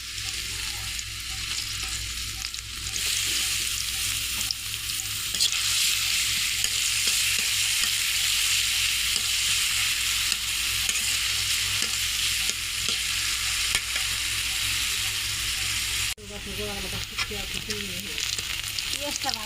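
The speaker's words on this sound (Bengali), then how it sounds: "পেঁয়াজটা ভাজা হয়ে গেছে" Onions fry in oil in a wok, a loud, continuous close sizzle with occasional stirring scrapes, briefly dipping near the end.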